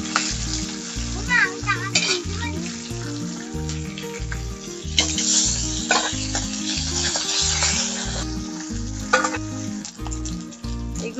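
Fish head pieces frying in hot oil: a continuous close sizzle with occasional stirring scrapes, running over a loud repeating background music track, no voices.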